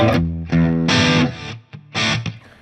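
Crunchy, distorted electric guitar chords from a Fender Performer Stratocaster HSS through a Marshall amp's crunch channel, with a reverb tail, struck in a few loud bursts with short gaps.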